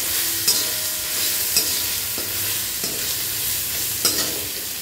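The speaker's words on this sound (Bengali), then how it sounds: "এখানে আদা রসুন বাটাটা তারপরে দিয়ে নেড়ে চেড়ে 2-1 মিনিট" Ginger-garlic paste is stirred in hot oil in a pan. A loud, continuous sizzle runs under several sharp scrapes and clinks from the spoon at irregular intervals, with no voices.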